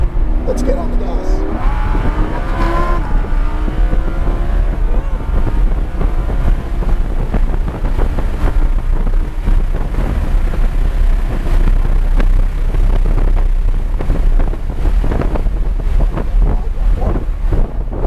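A 610 HP Lamborghini Huracan accelerates hard on the Dominion Raceway track, its engine rising in pitch under heavy wind roar in an in-car recording, while people talk over it.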